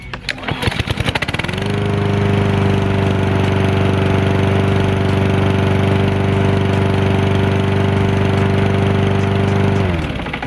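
A Toro Super Recycler lawn mower starts on one pull, catches after a brief sputter and settles into a loud, steady, droning run for several seconds before the engine note drops at the end.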